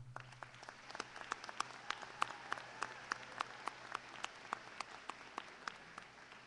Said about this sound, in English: Let us now applaud these graduates again.